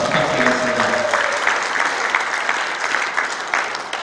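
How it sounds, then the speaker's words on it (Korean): Audience applause at a book launch event for a former mayor, steady clapping from a large seated crowd that holds for about four seconds, with a voice briefly audible at the start. "큰 박수 부탁드리겠습니다."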